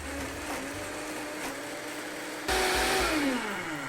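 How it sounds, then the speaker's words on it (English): A blender whirs at a steady pitch mixing water and curry powder, then jumps louder and higher as it speeds up, its motor tone shifting near the end. "Blend it up."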